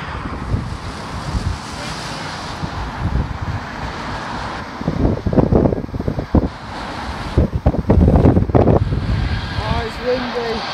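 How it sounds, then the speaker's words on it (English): Strong wind buffets the microphone in loud, irregular gusts that rise and fall over a constant rushing roar, with the heaviest bursts toward the end. "Oh, it's windy."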